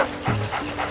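A dog in the Luigi's Mansion video game gives short whimpering yips and a low bark, close and fairly loud over a steady game background.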